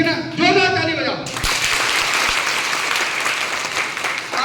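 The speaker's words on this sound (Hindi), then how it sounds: "जोरदार ताली बजाओ।" A crowd at a political rally bursts into loud, sustained clapping right after someone speaks, the applause dense and continuous to the end.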